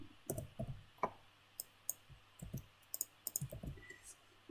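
Coordinates typed on a computer keyboard into a web mapping tool, a steady scatter of light, close key clicks in short irregular bursts over a quiet background, no voices.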